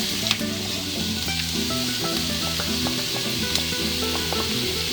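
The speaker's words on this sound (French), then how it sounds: "Voilà, là je rajoute mes poivrons." Bell peppers sizzling in a frying pan while potato galettes are cooked, a steady, dense close-up crackle and hiss throughout with faint stirring clicks on top.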